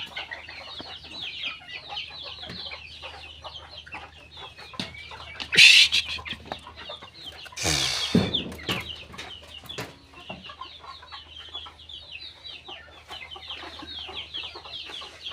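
Chickens cluck and chatter steadily at moderate distance in the rain, with a couple of louder sudden bursts partway through and light background noise.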